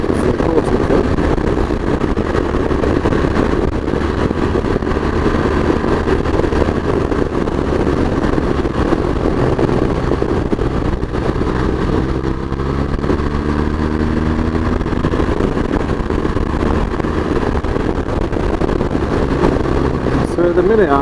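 A motorcycle ridden in normal road mode on a damp but clear road, its engine droning steadily with rushing wind throughout while a rider talks over it the whole time.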